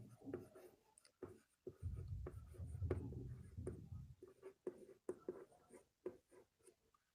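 Pen scratching on paper during a Delhi driving lesson about van number plates, a run of short irregular strokes with louder bursts, close and moderately quiet, with faint voices now and then.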